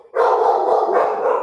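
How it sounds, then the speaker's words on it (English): Several pet dogs bark and yip excitedly in the background of an indoor call, a continuous burst of overlapping barking that is fairly loud, with no speech over it. "My dogs are going nuts in the background."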